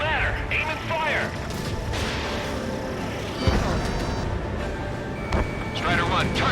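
Aircraft guns fire in a dogfight in Ace Combat 7: Skies Unknown, Top Gun: Maverick Edition, on PS5. Short, heavy bursts thump through roaring jet noise while radio voices talk over the action.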